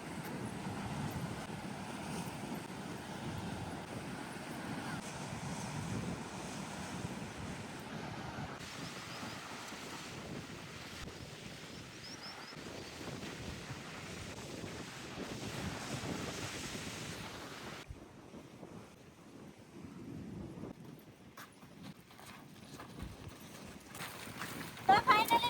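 Strong wind buffets the microphone on an island shore while surf rolls and washes steadily nearby, a broad continuous roar that eases and thins toward the end.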